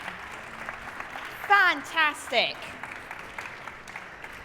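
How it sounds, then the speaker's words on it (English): Applause rises from the audience at a government conference session, brief bursts of clapping under a voice speaking over it. "the audience will erupt into riotous applause"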